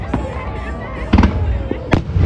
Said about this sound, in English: so this is New Orleans fireworks, huh?